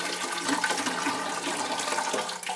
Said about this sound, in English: When you pull that out, that water is going to dump out of the tank a little bit.